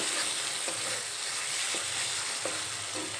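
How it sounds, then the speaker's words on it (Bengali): Bitter gourd (kakrol) curry frying in a pan sizzles steadily and loudly while a spoon stirs it, with a few soft scraping knocks against the pan and no talking. "এখানে দেখো একটু নেড়ে চেড়ে নিলাম"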